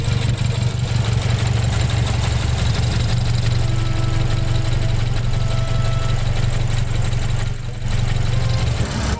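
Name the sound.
BMW N55 engine idling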